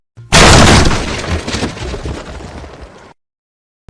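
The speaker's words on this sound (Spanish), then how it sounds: "Algo había destrozado la pared del establo, de tal forma que parecía una explosión." A loud explosive crash as a stable wall is smashed, a sudden heavy boom followed by a rumbling debris tail that fades over about three seconds, then abrupt silence.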